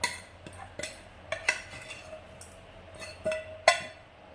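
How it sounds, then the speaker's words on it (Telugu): A spoon scrapes and clinks against a dish while stirring hot rice with pepper powder and salt for soya sprouts rice, giving soft irregular scrapes and a few sharp taps, quiet and close. "చూడండి, రైస్లో వేసా కలుపుకోవాలండి మొత్తం."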